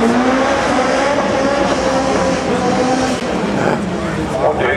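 A Nissan 350Z sports car runs on a race track, its engine droning loud and continuous with shifting pitch, while someone talks over it throughout.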